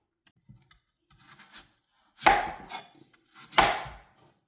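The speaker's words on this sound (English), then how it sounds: "I'm slicing the apples" Knife slicing apples for an apple pie in a home kitchen: a few light taps, then two crisp, close cutting strokes through the firm fruit, each with a short crunchy rasp, with quiet pauses between.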